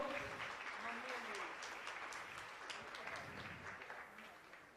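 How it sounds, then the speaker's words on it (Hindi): A crowd at a welcoming ceremony applauds loudly to greet guests, dense sustained clapping that fades slightly toward the end, with a voice speaking over it. "जोरदार तालियां बजाकर स्वागत करें आप लोग"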